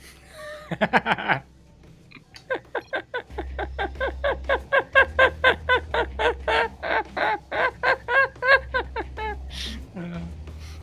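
Chicken clucking sound effect played during a StarCraft 2 tournament broadcast: a loud, rapid string of about twenty clucks in a steady rhythm over a low background hum.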